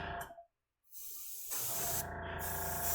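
An airbrush sprays alcohol ink onto canvas with a close, breathy hiss. It cuts out briefly near the start, then resumes and holds steady to the end.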